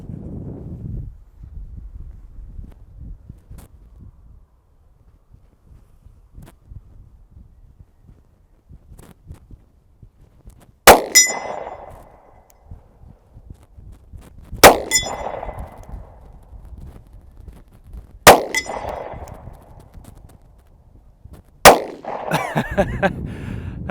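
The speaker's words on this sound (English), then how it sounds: "here I am at 50 yards, shooting one of the smallest 9mm semi-autos in the world" A Diamondback DB9 Gen IV 9mm compact pistol fires at a steel target 50 yards away outdoors in wind: four sharp shots spaced a few seconds apart, each followed by a distant metallic clang of steel ringing, over low wind rumble.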